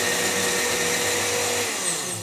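An electric grinder whirs steadily as it grinds whole garam masala spices, a loud continuous motor drone with no pauses and no talking.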